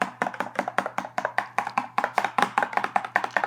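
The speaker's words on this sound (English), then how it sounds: "I'm just gonna kind of loosen it up and give it a little stir" A small spoon stirs a buttermilk mixture for biscuit dough, making a quick, steady run of light clinks and taps against the bowl, close by and without speech.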